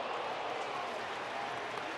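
At a Braves–Angels baseball game, a stadium crowd applauds a play with a brief, dense burst of steady clapping.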